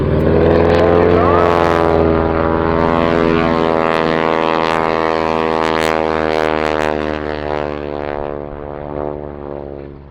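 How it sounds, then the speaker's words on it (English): A propeller airplane climbs at the 2019 Rochester International Airshow, its loud droning engine note rising and shifting in pitch as it passes, then gradually fading toward the end. "And now he gets back up on the airplane to climb."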